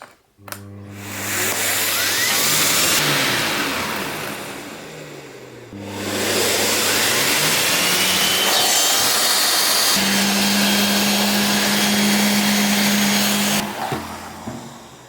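A Top Dog vacuum cleaner with a spinning head runs loudly at close range, its whining motor rising and falling in pitch as the spin speed changes, cutting out briefly near the middle before restarting.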